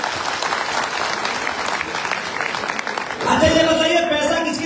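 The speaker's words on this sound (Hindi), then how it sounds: "तालियां बजनी चाहिए।" Crowd applause at a business meeting in Punjab, steady dense clapping that continues throughout and grows louder and fuller toward the end, with voices faintly mixed in.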